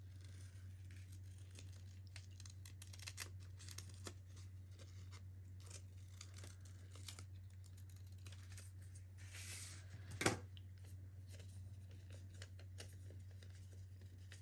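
Scissors snip through folded paper to cut out hearts, faint scattered crisp snips and paper rustles with one sharper cut, all beneath a steady low electrical hum at a craft table.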